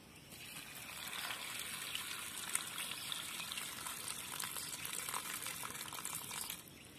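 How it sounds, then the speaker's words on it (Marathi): Water pours steadily into a pot of salted soybean pods for boiling, a continuous close splashing gush lasting several seconds before stopping, with no talk. "आता लगेच त्यामध्ये पाणी टाकायचं आहे"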